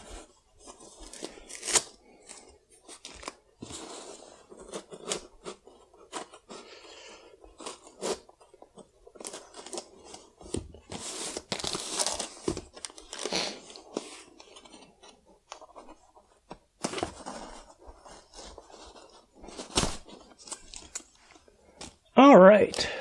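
A package from Japan holding Pokemon music is opened by hand: scattered crinkles, rustles and crisp tearing of paper and tissue paper in irregular bursts, close by, with louder crackling near the end.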